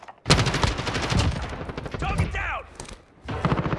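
Rapid automatic fire from a Kilo 141 rifle during a Modern Warfare gunfight, loud and close in sustained bursts with a brief lull near the end, while a voice talks over parts of it.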